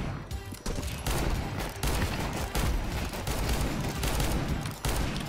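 Sustained rapid gunfire from a weapon in the video game Counter-Strike 2, dense and loud, with bursts running almost continuously and brief gaps between volleys.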